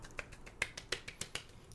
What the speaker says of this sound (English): A nice little mini clap.